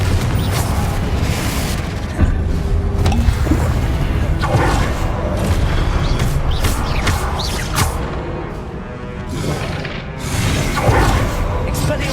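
Fiery Confringo spell blasts in Hogwarts Legacy during a wizard duel, loud booming explosions and crashing impacts that fill the whole stretch, with a voice shouting over the dense combat noise.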